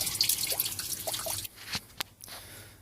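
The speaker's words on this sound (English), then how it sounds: "we've got the engine block draining" Water draining out of a boat engine block during winterizing, a steady trickling flow with small drips and splashes up close, then a quieter stretch broken by a couple of sharp clanks or drips.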